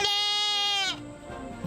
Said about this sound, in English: And yes, those are goats in that graveyard, more than 100 of them.